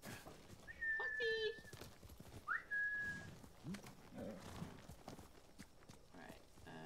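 In the Ghost of Tsushima video game, a horse's hoofbeats clop along quietly. Sharp whistle-like tones sound near the start, and a player talks over parts of it.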